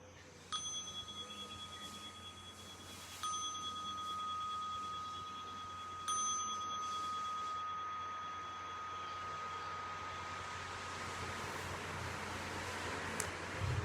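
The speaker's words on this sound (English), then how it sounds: "listening for the sound of the bell." A meditation bell is struck three times in turn, each ring a clear, sustained tone that carries and slowly fades, with the last ring lingering longest over soft room hiss at the close of a group meditation session.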